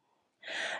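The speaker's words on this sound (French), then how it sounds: "On prend une inspiration ensemble ici." A deep inhalation during a stretching exercise with a brick, a quiet moment then a sharp, close breath drawn in through the mouth lasting under half a second.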